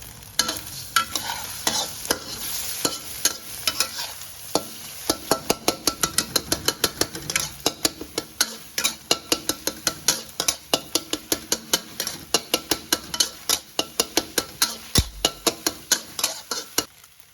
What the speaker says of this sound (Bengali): ডিমটাকে কিন্তু আমি আস্ত রাখবো না, এটাকে একদম সুন্দর করে একদম ভেঙে ফেলবো